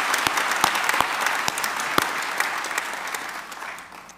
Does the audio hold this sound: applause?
yes